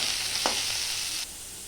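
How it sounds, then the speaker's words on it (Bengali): Cut potatoes with salt and turmeric frying in oil in a wok, a soft, continuous sizzle heard close up with a light clink of stirring, quieter toward the end. "এটাকে এবার আমি লাল লাল করে ভেজে নেব।"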